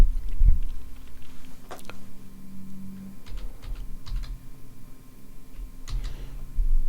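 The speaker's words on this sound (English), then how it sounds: "I'm sure you can hear the keyboard in the background." Computer keyboard typing in the background: a scattered run of light, irregular clicks and taps, fairly faint under a low steady room hum, with no talking.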